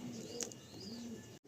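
Fulshira pigeons, blue-beaked with blue bars, giving soft low coos, two brief murmuring calls close by over a faint steady background hum.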